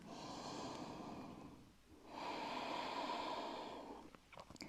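A long, deep breath during a yoga push-up sequence: a steady airy inhale, a brief pause, then a fuller exhale, close and alone with no talking.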